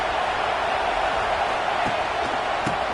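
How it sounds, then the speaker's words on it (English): Stadium crowd roar from a football video game, a steady broad wash of cheering and murmur held at an even level throughout, with a few faint thuds and claps poking through. "Listen to the crowd energy here in the early going."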